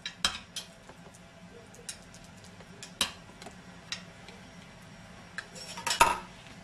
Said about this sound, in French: On garnit notre emporte-pièce de risotto.